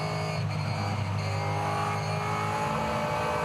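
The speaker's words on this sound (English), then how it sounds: "As we go on board now with Van Gisbergen" Onboard sound from a Supercars race car accelerating through turns, a loud, steady engine howl with high revving tones held throughout, no talk.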